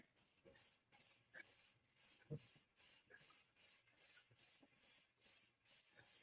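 A cricket chirps steadily outdoors on a warm summer evening by the water, with evenly spaced, high-pitched pulses repeating about twice per second, close and clear, with faint incidental noises between chirps.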